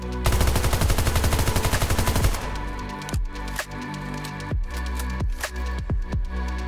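A FAMAS assault rifle in the video game PUBG fires a fast, loud burst for about two seconds, then several separate single shots ring out with echoing tails, close and alone.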